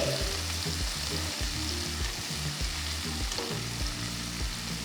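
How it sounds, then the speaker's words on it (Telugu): Two thinly sliced medium onions sautéing in oil with mustard seeds for an egg garlic masala, a continuous close sizzle with regular soft stirring scrapes, no voices. "ఈ టైంలో నేను రెండు మీడియం సైజ్ ఉల్లిపాయలు సన్నగా తరిగి వేసుకున్నాను వేసిన తర్వాత లైట్గా సాటే చేసుకోవాలి"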